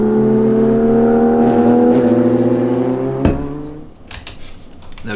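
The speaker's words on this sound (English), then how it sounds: "It's like he's racing up and he's passing the McLaren." A race car accelerates with a loud, steady engine drone that sweeps past a McLaren, then drops away abruptly into fainter, scattered engine and tire noise.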